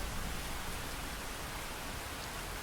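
Heavy rain in the Phantom Brigade video game pours as a steady, even hiss of broadband noise, faint and continuous with no distinct drops or breaks.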